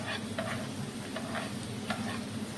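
Ginger-garlic paste frying and being stirred in a pan for a prawn curry, a steady soft sizzle with light scraping strokes, no talking.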